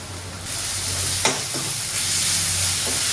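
Ginger garlic paste and green chillies sizzle in hot oil in a pan for mutton curry, a steady close frying hiss with a few brief scraping stirs partway through and no talking.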